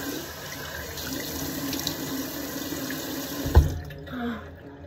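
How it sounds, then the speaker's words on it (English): Steady running water from a bathroom tap filling a sink while a face is wetted for washing, a constant close hiss with a brief splash near the end before it cuts off. "Now we're just wetting our face."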